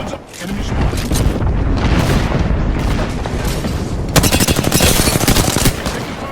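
Rapid automatic weapon fire and booming impacts in the shooter game Apex Legends, continuous and loud, with a fast, tightly spaced stream of shots in the latter half.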